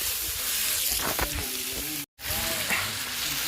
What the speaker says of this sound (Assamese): এতিয়া মাংসটো ধুনীয়াকৈ ফ্ৰাই কৰি বনাওঁ